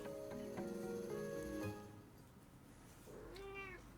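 A cat meows near the microphone, first with a drawn-out tonal call and then, after a short pause, a second, shorter rising meow, with no talking around it.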